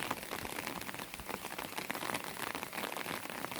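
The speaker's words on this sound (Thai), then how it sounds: "ฝนก็ตก" Steady rain patters on a surface, a dense, even hiss of drops with no pauses, fairly faint and with no voices.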